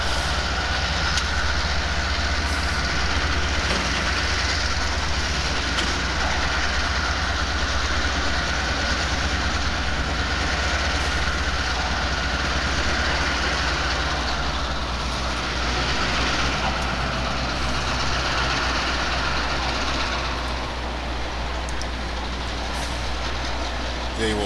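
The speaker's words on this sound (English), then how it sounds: "The train." A heavy Conrail freight train rumbles past at close range on street-running tracks in Warsaw, Indiana, a loud steady roar of wheels and engine with faint rail clatter throughout.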